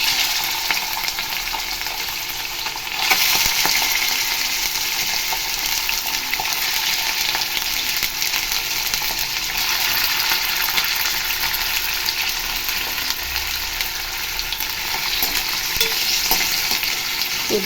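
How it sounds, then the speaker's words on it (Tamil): Chicken pieces frying in hot sunflower oil in a pan, a dense, continuous loud sizzle that jumps up sharply a few seconds in as the pieces hit the oil, then holds steady up close with no voices. "இப்போது சிக்கன் பீசஸ் இதில் போட்டுடலாம்"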